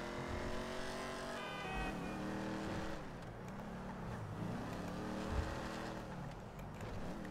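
A car in the video game GTA drives along and accelerates, its engine rising and falling through gear changes with a steady revving drone, moderately loud and continuous over several seconds with no one talking.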